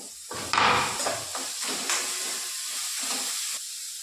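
Finely chopped ingredients hit a hot pan for a simple cabbage stir-fry, giving a steady steaming hiss and sizzle with a brief louder burst as they go in, with no talking.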